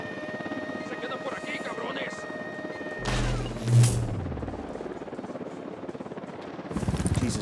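A helicopter approaches in the video game Ghost Recon Wildlands, its rotor wash rising in a steady drone under game ambience and background voices, with a brief crash-like swell partway through.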